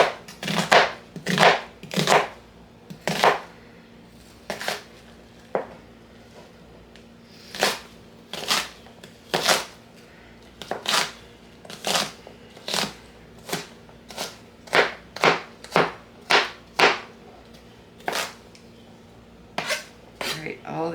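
A kitchen knife chops onions on a cutting board in steady bursts of crisp, close thunks, sometimes in quick runs and sometimes spaced out, repeating throughout with a faint low hum beneath.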